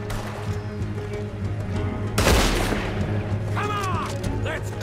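A single loud gunshot booms from a Red Dead Redemption 2 town shootout, its echo trailing off over ongoing game ambience, followed a moment later by a short whistling, ricochet-like sound.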